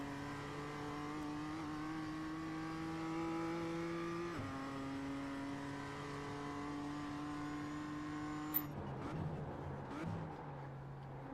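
A Mazda MX-5 race car in iRacing holds a steady engine note that climbs gradually, drops once with a shift, and then breaks into rougher revving with a brief sharp click near the end.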